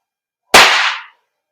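A single sharp, loud crack from a KJW KP-01 SIG Sauer P226 airsoft gas blowback pistol firing one shot, close and isolated in silence.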